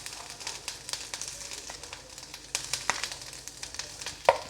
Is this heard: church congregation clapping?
no